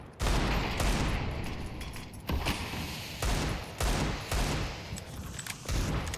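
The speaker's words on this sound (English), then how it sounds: "An excellent 90 damage grenade." Grenade blast and bursts of gunfire in a Counter-Strike esports match, loud dense repeated explosions and rapid shots filling the clip with short gaps between volleys.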